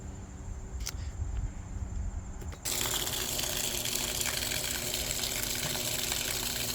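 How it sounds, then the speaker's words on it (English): A GE washing machine starts draining: a faint hum and a couple of clicks, then a sudden steady rush of water pumped out, broadband and continuous, close by. "It's draining."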